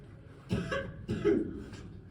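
Three short, close coughs in quick succession, with brief pauses between them, inside a gold mine.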